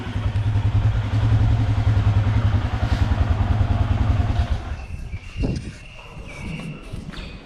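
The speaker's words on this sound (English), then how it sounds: "this is how you go about starting the motorcycle" A motorcycle with a fully drained battery, being bump started, gives a rapid pulsing engine putter that runs loud and steady for about four seconds, then cuts off, leaving quieter clatter and handling noise.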